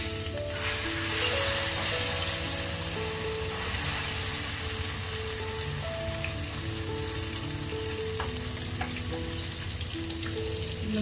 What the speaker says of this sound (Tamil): இப்போ இந்த ஃபிஷ்ஷில் ஃபிஷ்ஷு ஃப்ரை பண்ணுற பேனில் கொஞ்சோண்டு சில்லி ஃப்ளேக்ஸ் போட்டுட்டு ஃபிஷ்ஷை வந்து நான் அப்படியே தூக்கி வைக்க போகிறேன்.